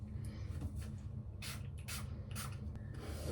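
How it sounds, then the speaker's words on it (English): Hair spray hisses in short repeated bursts into layers of long hair, close and fairly faint, over a steady low background hum with light rustling between sprays. "going to spray it into all the layers now so that I don't forget"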